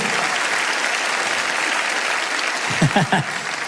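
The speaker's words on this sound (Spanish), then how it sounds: "Alguien tiene que aplaudir más que eso si lo crees de verdad" Audience at a Spanish-language faith sermon breaking into sustained applause, a dense even roar of clapping with a few louder bursts and brief vocal sounds toward the end.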